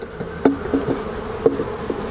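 Forager honey bees return to a swarm trap, giving a low, close buzzing hum with a few brief louder passes and soft knocks.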